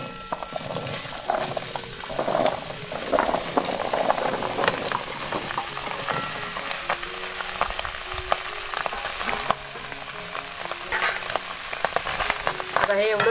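Pumpkin pieces cooking in a wok on a stove, a low, crackling sizzle with occasional rattles and stirring scrapes, fairly quiet and continuous.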